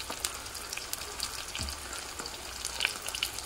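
Tomato paste with onions fries in a pan, giving a steady crackling sizzle dotted with sharp little pops and spits, close and fairly quiet, with no talking.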